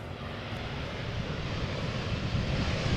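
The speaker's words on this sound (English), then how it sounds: "And German Airways, Embraer 190, the non-chocolate livery has just landed" German Airways Embraer 190 airliner landing at Amsterdam Schiphol Airport, a broad steady jet roar heard from outside that swells slightly over a few seconds, with some wind buffeting.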